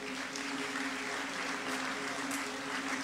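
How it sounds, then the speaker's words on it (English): A church congregation applauds at a youth conference service, a dense, even wash of clapping lasting a few seconds. "Can we please give God a round of applause?"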